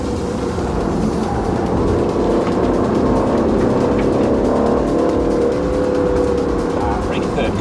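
An Aston Martin Vantage driven hard on a track: a steady, loud engine roar with a faint squeal of tyres. Light talk sits underneath it.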